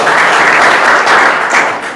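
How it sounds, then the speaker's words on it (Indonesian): A church congregation at a Sunday worship service claps loudly together, a dense, continuous burst of applause that swells and then begins to taper off near the end. "Tepuk tangan untuk Tuhan Yesus Kristus"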